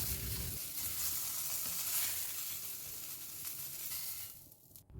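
Pumpkin pieces frying in a wok until reddish, a faint, steady sizzle with soft crackles that fades near the end, with no speech.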